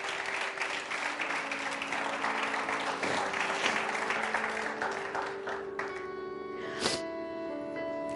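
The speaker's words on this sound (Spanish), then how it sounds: "Denle un aplauso al Señor" A church congregation applauds the Lord, a dense sustained clapping from a crowd at moderate distance, with music tones sounding underneath and a brief louder burst near the end.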